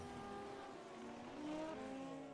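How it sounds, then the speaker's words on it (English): Race cars in a sim racing video game, a Formula Super Series event, with a crash: engines whine and shift pitch continuously while tires squeal and skid, loud and steady throughout with no talking. "Oh, Zach Buchanan has crashed again."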